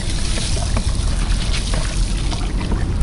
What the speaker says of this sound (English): now I'm going to just go ahead and add the grains in slowly while my assistant stirs